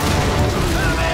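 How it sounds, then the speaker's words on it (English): Grenade explosion in the Call of Duty 2 game, a loud, dense, booming blast that fills the whole short moment with rumbling noise, with voices mixed in. "Throwing a grenade!"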